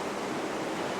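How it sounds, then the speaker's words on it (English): Churning ocean surf rushing in a steady, loud, broad wash of water noise, close and continuous with no break or voices over the brief second. "The ocean is churning"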